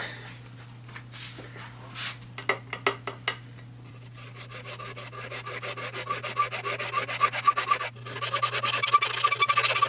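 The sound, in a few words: file rasping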